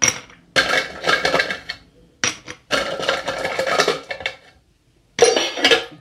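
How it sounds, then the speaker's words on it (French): Ice cubes tumble and clink loudly into a cocktail glass while making a mojito, arriving in several bursts of rattling clatter separated by short pauses. "Vous remplissez de nouveau de glace."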